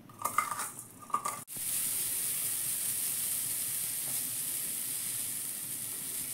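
A wok heating on a gas stove, a steady, even sizzle and hiss that sets in after a brief clatter and continues unbroken.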